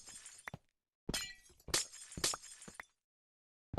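Glass breaking sound effect, turned down, played as a few separate bursts of shattering and tinkling shards with silent gaps between, crisp but moderate in level.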